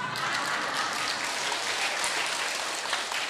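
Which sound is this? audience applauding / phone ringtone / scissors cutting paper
audience applauding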